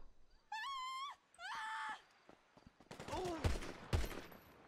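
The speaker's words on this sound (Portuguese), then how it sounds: "Nunca vi o Fred Krueger de arma!" Freddy Krueger firing a gun in GTA 5: two long wavering wail-like tones come first, then a flurry of sharp shots with heavy low thumps.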